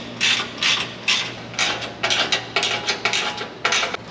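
A fastener on a plastic wheel well liner of a Nissan Frontier truck is snugged down with a ratchet, giving a close run of quick, crisp clicking bursts in an irregular rhythm.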